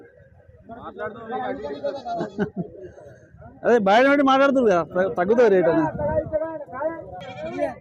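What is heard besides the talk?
goats bleating at livestock market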